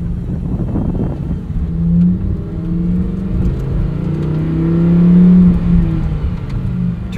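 A Lamborghini Huracan STO pulls away in first gear, its engine giving a steady, loud drone from inside the cabin that swells and rises in pitch as it accelerates.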